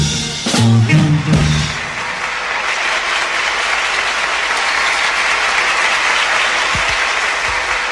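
A studio audience at a Sunday-night television show applauds a band and its singer. A brief louder burst with a voice comes at the start, then many hands keep up a dense, steady round of clapping.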